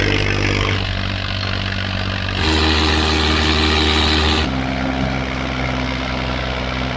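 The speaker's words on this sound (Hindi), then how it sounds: "चल पड़ा हुआ ट्रैक्टर।" A 485-model tractor engine runs hard in a field with a single harrow, a loud, continuous diesel drone with steady low throb that shifts pitch twice as the load changes, close and unbroken, no voices.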